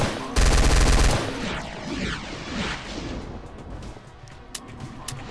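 Guns fire loudly in the demon-fighting game High Noon Drifter, with a dense, roaring burst of rapid shots for about a second, then a trailing rumble and scattered smaller impacts.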